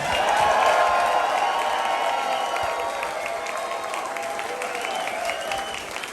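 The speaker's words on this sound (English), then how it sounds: "let's hear it for Jonathan Jeter on the drums." Steady applause from a live music audience for the drummer, dense clapping with a few cheers, holding at a constant level before easing slightly.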